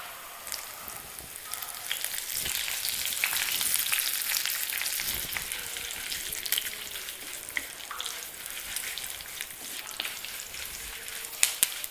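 Mustard seeds and curry leaves fry in hot oil for a drumstick-leaf curry, giving a steady close hiss with scattered sharp crackles and pops throughout, no talking.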